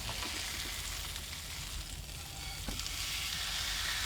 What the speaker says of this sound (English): Oh no, I'm burning my steak.